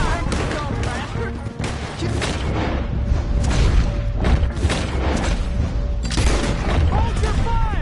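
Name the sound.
gunfire in the video game Red Dead Redemption 2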